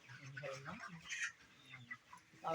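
Chickens cluck and call in a poultry farm, close and fairly busy, mixed in with someone talking over them.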